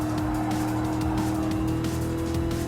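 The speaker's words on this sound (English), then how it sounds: "And so Ferrari passes in." Ferrari race car in Gran Turismo Sport, a loud steady engine roar with tire squeal as it passes during a custom race, no talk over it.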